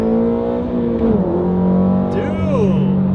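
A Mitsubishi Evo 8 with an 800 hp engine accelerates hard, its engine note climbing through the revs and dropping at a gear change before pulling up again, loud and close inside the car, with voices of the occupants underneath.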